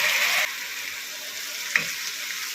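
Tomato paste frying in oil with cumin and coriander for a coconut malai koi fish curry, a steady close sizzle that is louder at first, then settles with a faint stir clink partway.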